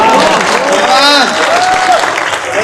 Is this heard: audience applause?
yes